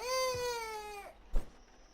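A cat in a horror video game gives one clear, long meow that falls in pitch, followed by a short thump, with no talk.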